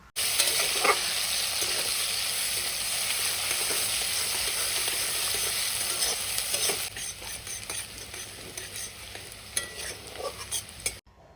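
Chopped onion frying with black cumin seeds in hot mustard oil, a steady loud sizzle running throughout, with occasional stirring scrapes and clinks toward the end.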